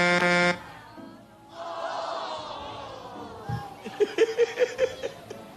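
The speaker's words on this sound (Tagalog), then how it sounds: "Busina eh. Busina na tayo." A short, loud horn blast opens, followed by chatter and laughter from several people.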